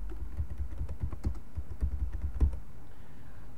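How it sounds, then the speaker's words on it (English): Keys on a computer keyboard clack as someone types, a quick run of soft, close, muffled taps in an uneven rhythm that trails off into quiet. "You just type the name of a video."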